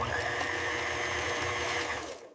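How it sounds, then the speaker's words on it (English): A food processor or high-speed blender whirs steadily as it chops and purées rock-hard frozen fruit chunks, loud and continuous for about two seconds before winding down. "Throw the frozen chunks into a food processor or high-speed blender. Blend it up."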